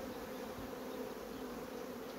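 Honey bees from a colony being split into nuclei hum in a dense, steady, close swarm drone that never lets up.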